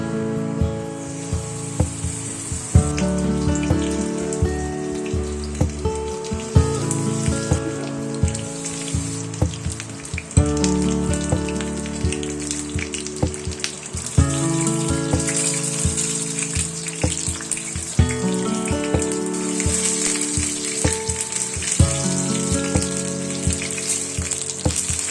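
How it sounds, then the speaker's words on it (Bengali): Batter-dipped bok phool flowers fry in white oil, giving a continuous bubbling sizzle under steady background music with a repeating beat. "প্যানে সাদা তেল দিচ্ছি আর বকফুলগুলোকে ব্যাটারে ডুবিয়ে হালকা"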